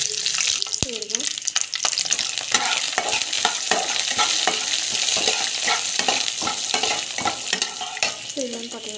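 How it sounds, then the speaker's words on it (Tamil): Chana dal with mustard seeds and cumin crackles in hot oil, a continuous close sizzle punctuated by frequent stirring scrapes and clatters, with a brief trickle of water in the background. "பருப்பு, கடலைப்பருப்பு நல்லா வதங்கணும்."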